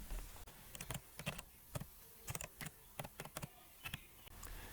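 Typing on a computer keyboard: quiet, irregular bursts of key clicks in short clusters with small pauses between, close and alone.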